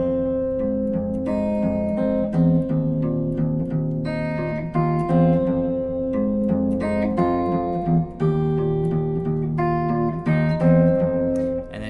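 Guitar chord melody arrangement of a song, with a repeating riff and chords played steadily and clearly for the whole stretch, close and solo with no voice.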